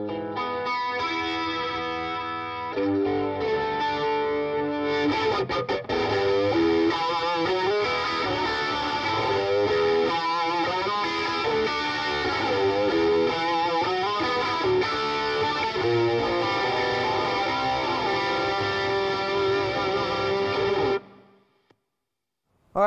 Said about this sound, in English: next pedal is a flanger pedal by PRS